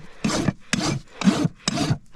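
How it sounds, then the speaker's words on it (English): Smooth side of a farrier's rasp filing a horse's hoof during sole trimming: four even, rough scraping strokes in a steady rhythm, close and fairly loud, with no talk. "I'm actually just gonna come with the smooth side of my rasp."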